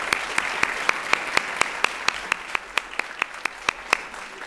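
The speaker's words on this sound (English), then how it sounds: "Let's give them all a round of applause" An audience applauds guests at a fashion education workshop, a steady wash of clapping with sharp, evenly spaced individual claps standing out on top.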